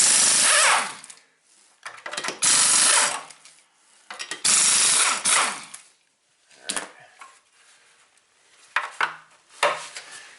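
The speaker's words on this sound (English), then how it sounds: "The Nano has no problems taking off lug nuts as long as you run 150 psi of line pressure." An air impact wrench run at 150 psi line pressure hammers lug nuts off a Subaru wheel hub, several loud, close bursts of rattling impacts separated by short pauses.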